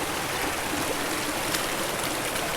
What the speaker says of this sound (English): the creek water passes through this crack in the slick rock